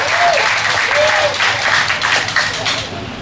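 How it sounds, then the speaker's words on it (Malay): Audience at a Malaysian political talk applauds with dense, steady clapping that fills the room. A brief voice or whoop rises over it before it thins out at the end. "Bagi satu tepukan kepada mereka"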